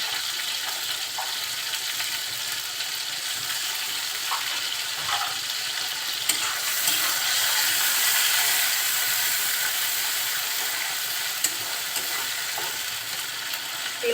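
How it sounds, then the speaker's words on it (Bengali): Garlic and ginger paste fries in hot oil for a bottle gourd and prawn curry, giving a steady bright sizzle with occasional stirring scrapes and small pops, close by and continuous. "এর সাথে আমি মশলাটা কষিয়ে নিচ্ছি যাতে মশলার কোনো কাঁচা গন্ধ না থাকে"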